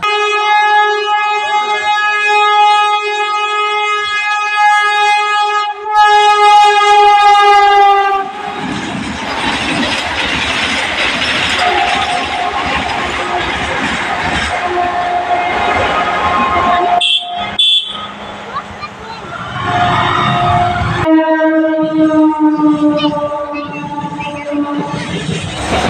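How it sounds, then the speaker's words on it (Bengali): A train passes a lowered railway level-crossing gate: a long, loud horn blast opens and closes the passage, with rumbling wheels and clattering carriages filling the middle, and voices faint underneath. "আর এখানে এখন গেট পড়েছে, ওই জন্য আমরা দাঁড়িয়ে আছি ট্রেন যাচ্ছে বলে।"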